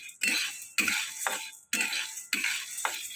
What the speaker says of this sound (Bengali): এই ছোলার ডালগুলো শুকনো খোলায় আমি ভেজে নিচ্ছি